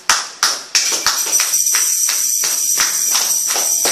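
A church congregation claps together in acclaim of Jesus, a run of sharp, loud claps opening in a few big hits and then settling into quicker, steady clapping without any talk.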